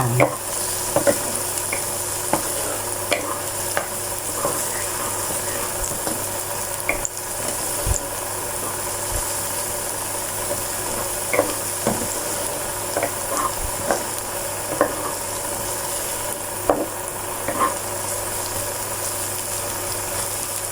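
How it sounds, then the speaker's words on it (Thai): Garlic stir-fried in a pan as part of a liver stir-fry, with steady sizzling under repeated scraping and stirring clicks, close up and continuous, with no talk. "ผัดกระเทียมให้หอมก่อนนะคะ"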